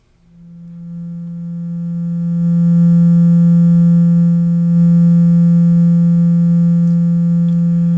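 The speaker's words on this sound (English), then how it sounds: "This is the sine wave output" A steady, pure sine wave tone from a Serge 1973 analog synthesizer oscillator holds one low pitch, fading in over the first couple of seconds and then sustaining loud and unchanging.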